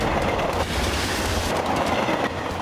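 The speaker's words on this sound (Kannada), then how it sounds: "ಆ ಟ್ರೈನ್ ಬಂತು, ಬನ್ನಿ ನೋಡೋಣ." A train rumbles steadily past at close range, a loud, continuous roar of rail noise with faint wheel clatter and no voices over it.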